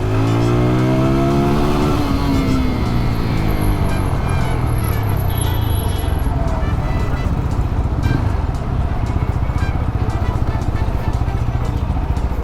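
A TVS Apache 200 4V motorcycle with tappet noise runs close and loud, revving up and settling into a steady idle with a busy mechanical ticking layered over the engine drone, no voices.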